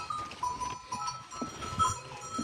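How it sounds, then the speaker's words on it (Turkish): Goats bleat among a flock of sheep on a farm, several short calls rising from a quiet, busy background of animal movement. "Keçilerin genellikle hepsi kürüne çıkar."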